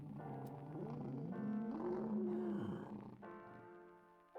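Anzu dinosaur from the Dinosaur Simulator video game growling, a loud sustained roar-like vocalization with a wavering pitch that rises and falls over several seconds, then gives way to a steadier tonal drone.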